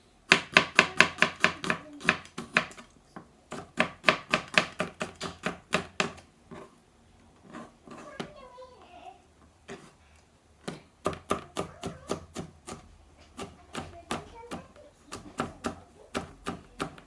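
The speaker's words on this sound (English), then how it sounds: "by this time I'm gonna slice this garlic" Knife slicing garlic on a cutting board, heard as fast, crisp, evenly spaced chopping taps in bursts with short pauses between, close and clear with no talking.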